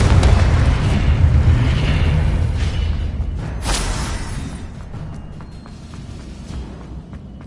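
Confringo fire spell blasts in the video game Hogwarts Legacy: a loud booming explosion with crackling bursts and whooshes that slowly decay over several seconds, no talking.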